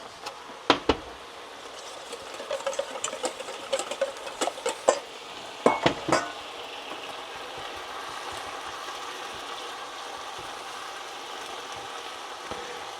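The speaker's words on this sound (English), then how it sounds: "You like to saute it so almost all the liquid has evaporated, leaving all that wonderful flavor in the mixture." A spinach and egg mixture sautés in a pan: a run of sharp stirring scrapes and clicks over the first six seconds, then a steady, even sizzle and hiss continuing alone.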